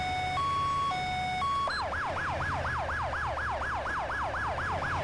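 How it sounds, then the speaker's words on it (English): An ambulance siren in GTA 5 blares close and loud, first a two-tone hi-lo alternation, then a rapid rising-falling wail repeating steadily over engine rumble. "That's why everybody act like I don't have my siren on."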